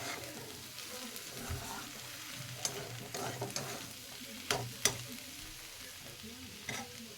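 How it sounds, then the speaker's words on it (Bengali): Aloo methi, potato and fenugreek with no turmeric, sizzles and fries in a pan while a spoon stirs it, with scattered scraping clacks over a steady low crackle. "আবারও আমি ভালো করে নাড়িয়ে নেব"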